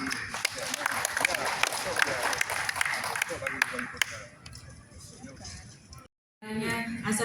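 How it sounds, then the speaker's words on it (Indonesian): An audience at an SPS anniversary evening event in Banda Aceh applauds with dense, continuous clapping that fades after about four seconds. A brief silence follows, and then crowd murmur returns. "kita berikan aplaus tepuk tangan buat teman-teman SPS"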